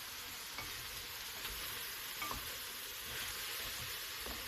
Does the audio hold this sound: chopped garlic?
yes